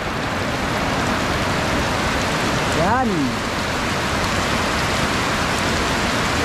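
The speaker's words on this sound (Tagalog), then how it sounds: "ang lakas ng ulan" Steady heavy rain hisses throughout, with a brief voice speaking in the middle over the downpour.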